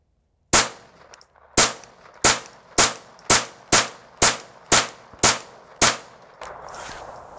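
A Marlin 795 semi-automatic rifle fires ten rounds from an extended magazine, each shot a sharp, close crack in a steady, slightly uneven rhythm about two-thirds of a second apart, followed by a low shuffle of handling.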